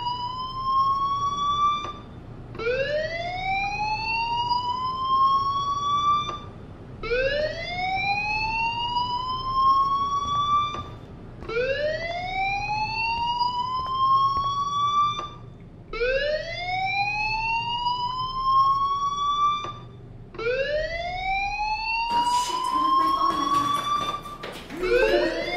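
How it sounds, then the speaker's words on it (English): Fire alarm in the Life is Strange video game: a loud whooping tone that sweeps upward, repeating about every four seconds across the whole stretch over a low hum. "Fire alarm? That means you should be outside."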